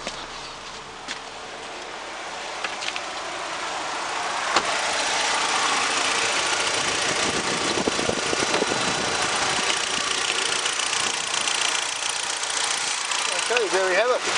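A Chery J11 T1X with a 2.0-litre SQR4 engine runs steadily at an auto parts yard, a loud, broad mechanical drone that rises slightly after the first few seconds and holds close to the microphone.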